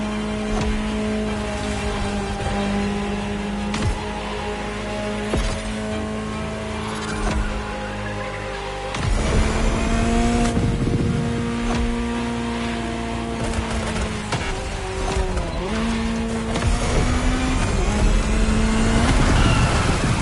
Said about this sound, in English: Just listen to the car you're driving.